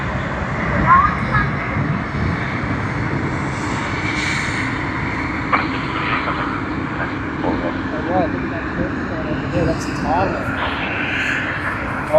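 A Thai Airways airliner on runway 25 at Sydney Airport gives a steady, broad engine roar that holds throughout with a few faint knocks, while voices talk over it.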